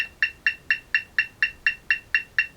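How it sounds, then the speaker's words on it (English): A metronome set to quarter notes at 250 beats per minute ticks rapidly and evenly, eleven sharp identical clicks with no other sound, for a drum lesson on accented triplets. "So I've set it at quarter note, 250 beats per minute,"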